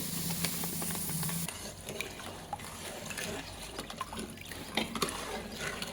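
Sugar is stirred into water in a pan to make syrup for soaking boondi, heard as a quiet wet swishing with light scrapes and taps against the vessel and no talk.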